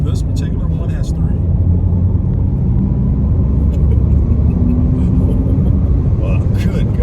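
An Audi RS e-tron GT, an all-wheel-drive electric car with three motors, accelerates hard, its loud steady rumble and road roar heard from inside the car for several seconds.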